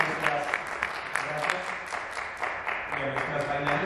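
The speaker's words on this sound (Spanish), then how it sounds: "Quiero que les demos también un aplauso a los muchachos de la percusión" Moderate applause from an audience at an Afro dance performance, crisp claps of varied intensity over several seconds with a faint murmur of voices underneath, honoring the percussionists.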